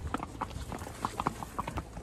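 Horse hooves clip-clop at a steady walking rhythm on a desert trail ride at Pucker Ridge near Apache Junction, Arizona. The hoofbeats are fairly quiet and close, with no talk over them.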